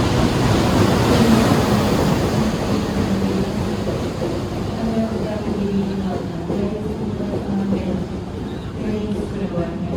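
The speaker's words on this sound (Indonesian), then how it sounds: "Tiba di stasiun Klaten bertemu dengan kereta api Argo Dwi Pangga" The Argo Dwi Pangga passenger train runs past at Klaten station, a loud, continuous rumble and roar of rolling stock with a steady low drone, close by and sustained throughout.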